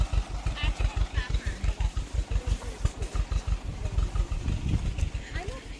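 A tractor engine chugs on an orange farm in California, its rhythmic thumping pulses steady and close throughout. A person's voice talks over the engine.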